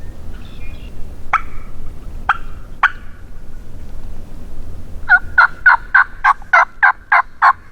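Wild turkeys gobble in the woods of Michigan's Upper Peninsula, with three separate sharp gobbles followed by a fast run of about eight loud, close, rhythmic gobbling bursts against quiet background.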